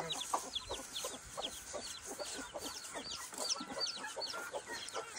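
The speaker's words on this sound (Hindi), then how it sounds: "सब मुर्गी आ गई।" Hens in an Indian village yard cluck busily and continuously as they come in to be shut away, joined by chicks, with many overlapping nearby calls and no talking.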